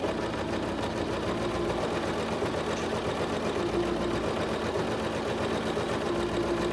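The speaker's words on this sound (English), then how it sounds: "Not going to backstitch at the beginning, we're just going to start sewing." A Singer SewMate 5400 sewing machine basting a skirt seam, running in a steady unbroken whir with a fast rhythmic needle chatter, close and even from start to finish with no talking.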